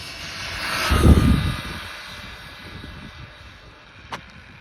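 A stock Jiusi PT14R budget RC truck at full throttle on an on/off-road test, heard as a brief whining motor surge that swells near the start and then fades as the truck moves away, leaving faint outdoor background.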